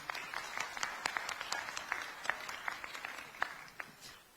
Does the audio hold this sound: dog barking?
no